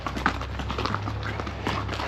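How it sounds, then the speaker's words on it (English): Horses walk on a rural road in the Cuban countryside, their hooves clip-clopping in a steady, fairly close rhythm over a low continuous rumble. "These horses are great."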